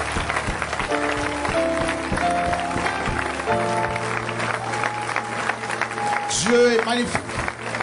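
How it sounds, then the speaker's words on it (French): Sustained applause from a church congregation rolls on steadily beneath a preacher speaking French, with music playing and the clapping mostly masked by the voice and accompaniment. "On acclame la parole de Dieu, mes amis."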